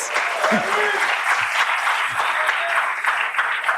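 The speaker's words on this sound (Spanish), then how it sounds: "Aplausos para Luis." An audience applauds steadily in a close, continuous patter of clapping, with a few louder claps and voices standing out over the crowd.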